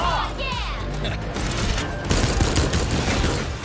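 Animated gunfire during a flag-capture fight in gen:LOCK, with a dense, loud volley of shots and blasts layered over a busy action soundtrack that continues throughout.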